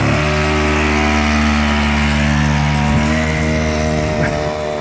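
Apache G-Scooter twist-and-go engine running steadily at a constant idle-to-mid buzz, close and loud throughout, with no talking.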